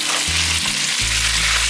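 Kway teow rice noodles stir-fried with dried tofu crackle in a loud, dense sizzle throughout, with a low humming drone underneath and no voices.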